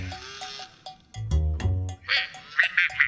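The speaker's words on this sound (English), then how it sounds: "Have you ever wondered how an angry duck sounds? This is how it sounds." A robotic Aflac duck toy lets out an angry electronic quack: several short, harsh, bleating calls close to the microphone, with brief pauses between them.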